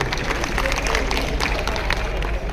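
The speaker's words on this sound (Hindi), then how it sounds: "एक बार मैं चाहता हूं उनके लिए जोरदार ताली बजा लीजिए" An audience claps at a business achievers' stage event, producing a dense, continuous wash of applause and crowd noise at a steady loud level with no pauses.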